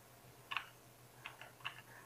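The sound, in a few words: typing text on a computer keyboard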